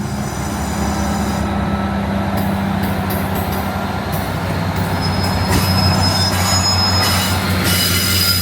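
A Northern train on the East Coast Main Line pulls into a station near Newcastle with a loud, continuous rumble. High wheel squeals ring out through the second half, and no voices are heard.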